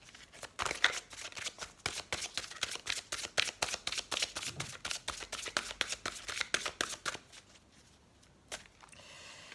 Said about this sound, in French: Et on va prendre la petite carte pour avoir votre message.